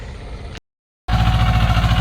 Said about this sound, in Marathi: फणायला एकदम जबरदस्त चालतोय ट्रॅक्टर